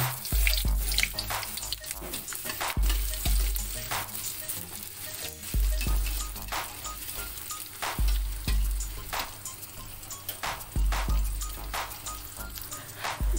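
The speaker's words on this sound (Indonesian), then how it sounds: "terlebih dahulu kita tumis bawang merah dan bawang putihnya." Shallots and garlic sizzle steadily in hot oil in a pan, a continuous frying hiss with occasional stirring clatter, close and fairly loud, with no talking.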